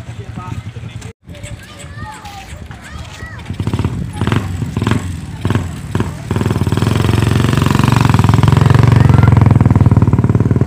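Motorcycle engines rumble and rev nearby aboard a small wooden ferry on Lake Toba, building to a loud, steady drone, with people talking over the noise.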